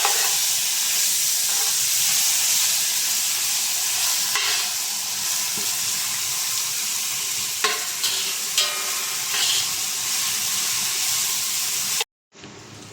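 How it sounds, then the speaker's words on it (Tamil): Ginger garlic paste is stirred into channa masala frying in a pan, giving a loud continuous sizzle and hiss with scattered scraping stir strokes over about twelve seconds before it cuts off abruptly. "100 கிராம் இஞ்சி பூண்டு பேஸ்ட் எடுத்து நல்லா மிக்ஸ் பண்ணிக்கலாம்"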